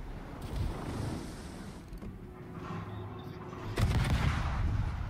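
Low-tier warship guns fire in the naval battle game World of Warships, heavy booming shots with rumbling tails, one louder volley near the end, over a low ambient wash.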